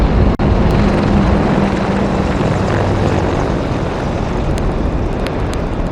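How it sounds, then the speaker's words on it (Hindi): Three Apache helicopters pass in formation over the Republic Day parade near India Gate, a loud continuous broadband rotor and engine roar that stays steady throughout, with no talk over it. "इंडिया गेट के ठीक पास पहुंचते हुए अजय फॉर्मेशन में 3 अपाचे हेलीकॉप्टर"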